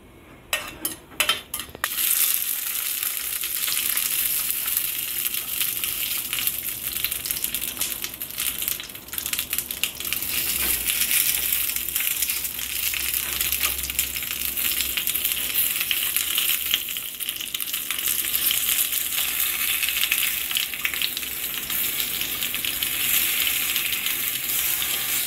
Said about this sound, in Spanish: Estamos friendo la pimienta y los clavitos.